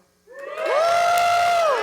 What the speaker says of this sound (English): give me a cheer if this is your first HackUSU.